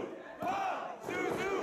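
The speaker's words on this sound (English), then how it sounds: "The crowd sounds like they got Puerto Rico on their back." Wrestling crowd at a lucha bout, a loud roar of chanting and cheering in two swelling waves, voices blending into a dense arena noise.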